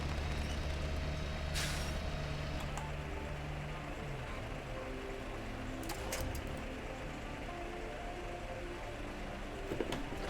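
A truck's air handbrake in the off-road driving game SnowRunner hisses in a short burst over a low, steady engine idle, followed by a few faint clicks and clunks.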